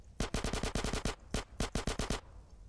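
Gunfire in the GTA San Andreas video game, two rapid bursts of evenly spaced loud shots, about nine and then six, separated by a brief pause, with nothing else heard.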